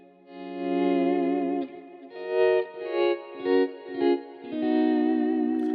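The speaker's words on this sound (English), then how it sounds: "if you swell into the chords" Electric guitar chords for R&B playing, each swelled in with a volume pedal so the pick attack disappears, giving soft violin-like rises and fades through chorus and slight distortion, several swells in a row, no talk.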